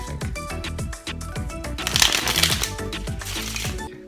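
A deck of playing cards being shuffled by hand, with a quick ripple of flicking cards and a denser burst of riffling midway, close and clear with no talk.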